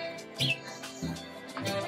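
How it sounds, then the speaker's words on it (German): Sparrows chirp at a harbour on Lake Constance, several short bright calls scattered through a steady murmur of background music and ambient noise, moderately near. "Und wenn es erstmal nur die Spatzen sind"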